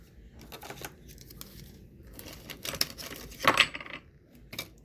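Silver coins rattle and clink against each other as a stack is handled, a busy run of small metallic taps and jingles with a few brighter chinks, close and fairly loud with no talking.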